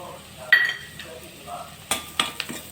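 Wheat semolina roasts in ghee in a pan, with a soft, low sizzle broken by several distinct scrapes and knocks of a spoon stirring against the metal, close and fairly quiet.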